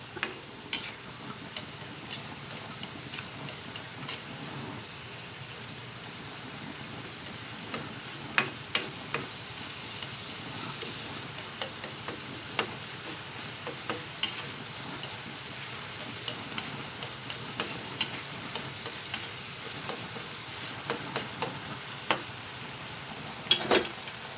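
Ground pork and bitter gourd (ampalaya) stir-frying in a pan, a steady sizzle running throughout with scattered clicks and scrapes of stirring, fairly quiet and close.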